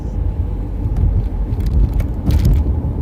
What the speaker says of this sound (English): Just driving around New Haven, heading back home.